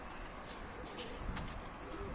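A racing pigeon lands outdoors and coos softly, a few faint low calls over quiet ambient noise.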